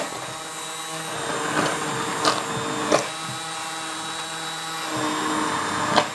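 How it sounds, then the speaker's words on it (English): Stick mixer pureeing cauliflower and bacon soup in a pot, a steady close motor whirr with occasional louder knocks and splashy bursts as the blade moves through the soup. "So I've got my stick mixer here, and all I'm going to do is stab it in and get to it."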